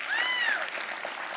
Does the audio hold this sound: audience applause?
yes